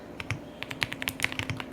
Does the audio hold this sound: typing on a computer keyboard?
yes